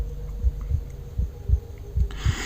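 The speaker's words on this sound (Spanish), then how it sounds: "nada cambiaba excepto el ritmo de los latidos de mi corazón." A heartbeat sound effect in a spoken audio story, with low, muffled paired thumps repeating in a steady rhythm over a faint hum, no voice over them.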